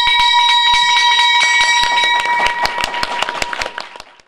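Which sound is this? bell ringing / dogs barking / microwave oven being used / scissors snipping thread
bell ringing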